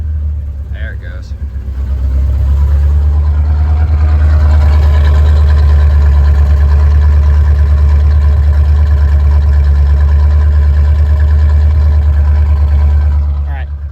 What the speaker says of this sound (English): It's straight pipes. See if we can get the idle to come down a little bit.